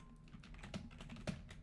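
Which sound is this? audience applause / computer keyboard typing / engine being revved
computer keyboard typing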